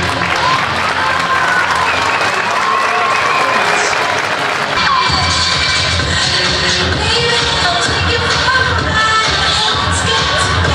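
Sustained audience applause fills a school graduation ceremony hall at Oran campus, dense clapping throughout with crowd murmur and shuffling, a brief voice over it early on, then louder, brighter clapping after the midpoint.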